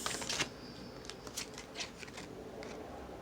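Tarot cards being shuffled and drawn, with a soft papery riffle at the start followed by a few light flicks and slides, close and quiet.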